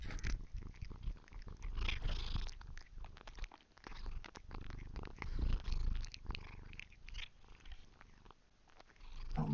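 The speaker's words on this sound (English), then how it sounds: "You want another treat, so you purr more." A pet cat, a female, purrs steadily and close up, a continuous low rumbling with a few crunching bites mixed in as she eats a treat.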